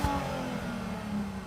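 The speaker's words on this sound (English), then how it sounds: "So Stefan, can you give us some revs in your original R32?" An original Volkswagen Golf R32 revs briefly with its window down, a short, moderately loud engine note rising and holding for just over a second.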